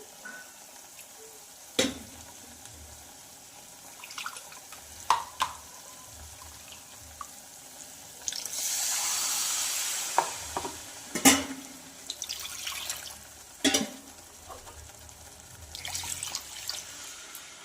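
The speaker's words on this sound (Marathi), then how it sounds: "तर यामध्ये आपण पाणी घालून घेणार आहोत आधी" About a glass of water runs and splashes into a hot pan of sprouted moth bean curry, a steady hissing pour lasting a few seconds amid occasional clinks of utensils.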